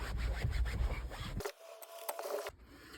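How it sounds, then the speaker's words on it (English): A damp microfiber cloth rubs back and forth across a car seat fabric, giving close, steady scrubbing strokes for about a second and a half before falling away to a quieter, sparse scuffing. "I'm just going to do the same thing and wipe the seat."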